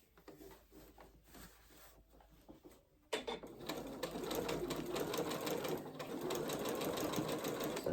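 Sewing machine stitching a shirt, starting with a sudden clack after quieter fabric handling and then running in a steady, fast, close rattle until the end.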